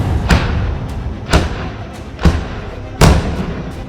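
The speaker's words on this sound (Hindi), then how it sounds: "धमाके पर धमाके।" Four heavy explosive booms from an army encounter in Anantnag, with drone bombing, rocket launchers and IEDs, go off one after another at uneven intervals, each a deep thud with a rumbling tail, over a constant low background roar.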